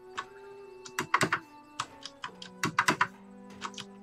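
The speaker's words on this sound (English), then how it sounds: "It is a mechanical keyboard," Keys clack on a mechanical computer keyboard during a WildStar gaming session, loud close bursts of uneven presses with short pauses between clusters, over a faint steady background tone.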